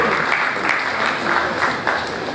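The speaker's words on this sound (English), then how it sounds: "a round of applause for the Vice Chancellor of the University of Ibadan" An audience applauds the Vice Chancellor of the University of Ibadan at a scientific conference, a steady wash of clapping that holds evenly throughout at moderate loudness, with no voices over it.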